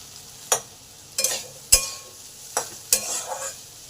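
Okra and potatoes frying in a pan, a soft steady sizzle broken by five or six sharp stirring scrapes at irregular intervals, close and fairly quiet with no talk.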